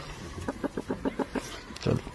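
A farm rooster gives a run of short, evenly spaced clucks close to the mic, then a louder, fuller call near the end, with faint background noise and a hint of voices.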